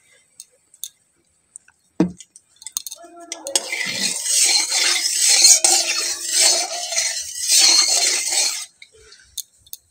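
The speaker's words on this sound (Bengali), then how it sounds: "আমি সর্ষের তেল দিয়ে বানাবো, অন্য তেল ঘরে নেই। দিয়ে দিলাম এই যে কড়াইয়ের মধ্যে তেল" Mustard oil goes into a kadai on a home kitchen stove: a sharp tap of metal, then a few seconds of bright, hissing sizzle and light spattering that swells, wavers and stops abruptly.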